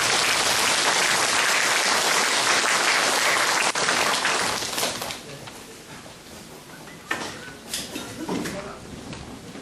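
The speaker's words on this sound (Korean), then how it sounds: "큰 박수와 더불어 전하진 의원을 단상으로 모시겠습니다." Loud, dense audience applause at a political party lawmaker's report meeting in Bundang, holding steady for several seconds and then tapering off into scattered claps and room noise.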